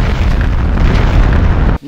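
A bomb going off in a cardboard prison escape video game, a sustained loud blast of broadband rumble lasting nearly two seconds before cutting off abruptly.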